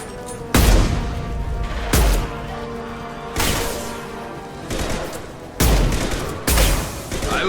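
Rifle gunfire in the Mass Effect video game: several heavy, booming shots spaced a second or so apart, each with a long ringing tail over a constant background of battle noise.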